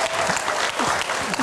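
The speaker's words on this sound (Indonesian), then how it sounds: "Tepuk tangan." A crowd applauds at an event, giving bright, continuous clapping with a few cheers and voices mixed in beneath it.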